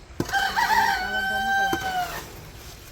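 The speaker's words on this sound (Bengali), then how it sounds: "মোরগে এমন ডাকাডাকি করে মাথা নষ্ট।" A rooster crows once in a village setting, a loud rising-and-falling call lasting about two seconds, close by over faint background noise.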